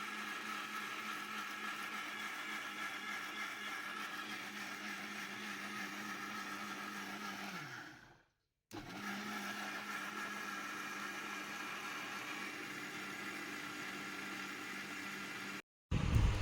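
A kitchen blender grinds pitha batter with a little water, a steady loud whir that runs nearly throughout, briefly winding down and cutting out before starting again, with no talk.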